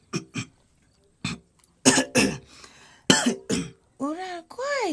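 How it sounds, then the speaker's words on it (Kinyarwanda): A child coughs repeatedly in short, harsh bursts, with throat clearing between them, close and fairly loud, followed by brief speech near the end. "inkorora nyinshi"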